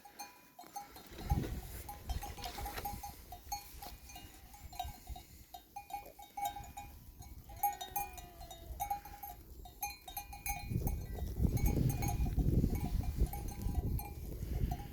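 Sheep bleat now and then amid a busy flock on pasture, with rustling and a bell-like tinkle, growing louder toward the end.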